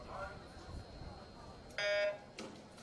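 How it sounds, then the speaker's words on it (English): A short electronic start beep sounds at a secondary school swimming championship, one sharp tone followed by a brief second burst, heard over indistinct commentary and pool-hall murmur. "Beep goes, and the girls are in the pool"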